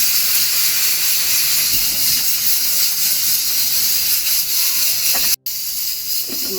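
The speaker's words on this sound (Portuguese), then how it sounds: "O nosso frango fazendo." Chicken cooks in a covered pan, giving off its water with a loud, continuous steamy hiss and sizzle that barely changes, broken once by a brief dropout near the end.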